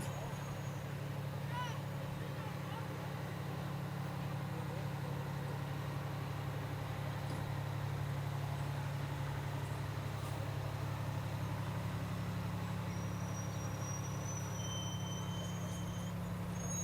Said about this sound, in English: And then we have Engine 1209 from the Little Fork Volunteer Fire Rescue Department